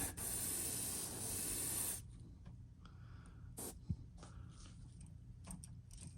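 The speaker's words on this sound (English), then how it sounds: "we're gonna go ahead and spray this whole thing white" A continuous hiss of white aerosol spray paint on a fishing lure runs for about two seconds, then stops, leaving quiet handling noises and small clicks.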